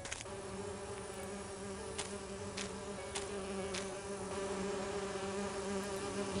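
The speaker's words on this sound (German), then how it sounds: "Ich muss erst die Bienen ruhig stellen." A constant swarm of bees hums and buzzes in an Agatha Christie video game, with a few sharp clicks, no talking.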